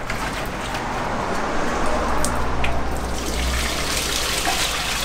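Pressurised hose water rinses out a camper van toilet at a dumping point, a steady loud rushing and splashing that carries on without a break.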